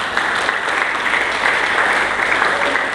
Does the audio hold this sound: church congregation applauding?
yes